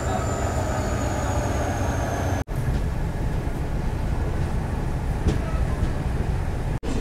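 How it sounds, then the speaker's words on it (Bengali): A freight train entering Jirania station on the Agartala to Silchar route, a steady low rumble with a thin high squeal of wheels, broken by two brief sharp dropouts and otherwise continuous. "আর মালগাড়ি ঢুকছে।"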